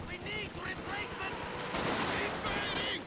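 Katyusha rocket artillery fires in the Company of Heroes 2 strategy game, a dense rush of whooshing launches and crackling bursts under a continuous game soundscape, loud and busy throughout, with a commentator's voice mixed in.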